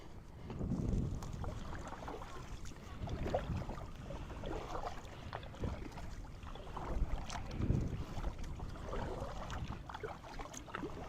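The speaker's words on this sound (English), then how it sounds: "Let's paddle out to the middle here." Paddle strokes splash and slosh in a loose repeating rhythm on an open lake, with wind buffeting the microphone and no talking.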